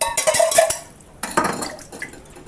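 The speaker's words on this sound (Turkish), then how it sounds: "Şöyle cezvenin içerisinde bir çalkalayıp azıcık daha dökebilirim." Water swirls inside a Turkish coffee pot (cezve) with a clinking metallic slosh, two short close bursts, the first longer and brighter, the second softer, in a home kitchen with no talking.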